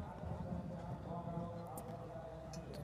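A horse gallops on the cross-country course at the Luhmühlen CCI4* eventing competition, a rhythmic drumming of hooves under French commentary with crowd noise around it.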